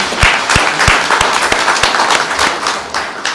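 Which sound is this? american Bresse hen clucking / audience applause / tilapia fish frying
audience applause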